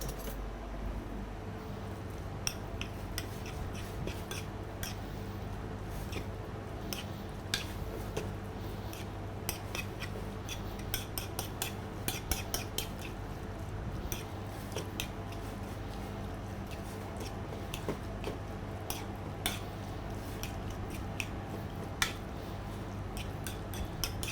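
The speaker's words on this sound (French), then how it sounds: "On vient mélanger le tout" Seasoned salmon preparation being mixed in a bowl, with soft, scattered clinks and scrapes of a utensil that stay faint and steady throughout, with no talk.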